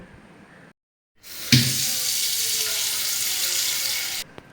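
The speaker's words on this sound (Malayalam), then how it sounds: "പൈപ്പിലെ വെള്ളത്തെയാണോ നീ കഞ്ഞി വെക്കുന്നത്" A tap is switched on and water runs hard and steady for about three seconds before cutting off, close and alone after a near-silent start.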